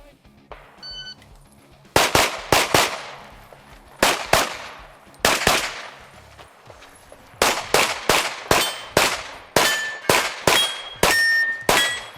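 Gunfire ringing off steel targets at a shooting competition stage: sharp shots in quick bursts, each followed by a metallic clang, some spaced and some in rapid strings, close and loud.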